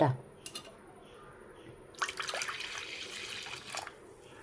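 Water is poured into chapati flour in a mixing bowl for soft chapati dough, giving a soft trickling splash that starts midway and carries on steadily at close range.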